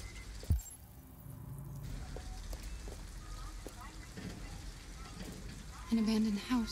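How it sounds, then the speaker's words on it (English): Steady rain falls in Detroit: Become Human outside an abandoned house, a constant hiss that runs under characters talking, with a few brief thuds and a rising tone near the end. "At least we'd be out of the rain."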